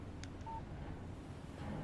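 A phone in Alan Wake chirps once with a short, thin electronic text alert, faint over a low outdoor rumble.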